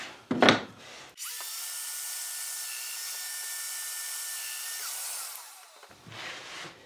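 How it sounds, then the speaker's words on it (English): A Festool Domino joiner plows mortises in wood, giving one steady, loud motor whine that runs for about five seconds, preceded by a short clack and trailing off into quiet handling noise. "And we'll plow the mortises."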